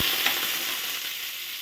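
Freshly cut potatoes drop into hot oil and sizzle with a dense, steady hiss and crackle, close and fairly soft, alone for a brief moment.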